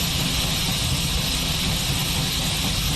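A steam locomotive in a train simulator game runs with its throttle pulled back, a loud, steady engine roar and rumble that holds constant throughout with no break.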